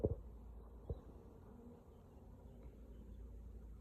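Honey bees buzz around a hive, a low, faint, continuous hum close by, with a couple of soft knocks near the start.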